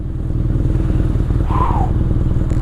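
A BMW R nineT motorcycle with GKM modifications, heard while riding: a steady, close, low engine drone with even pulsing throughout, no voices.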